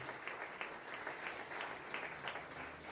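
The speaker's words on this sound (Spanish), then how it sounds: "Denle un aplauso al Señor" Church congregation clapping together in steady, fairly even rhythm, a moderate crowd applauding alone for several seconds.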